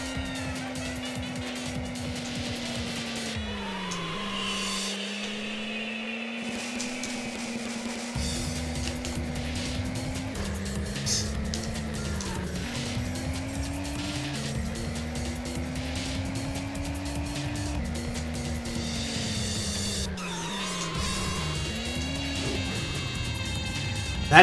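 Souped-up car engine in the video game Racing Lagoon revving hard through repeated gear changes, pitch climbing then dropping at each shift, loud and continuous with no talk.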